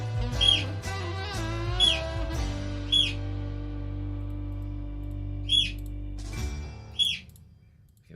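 Pet birds give several short, high chirps, spaced irregularly and close by, over Christmas music that fades out partway through.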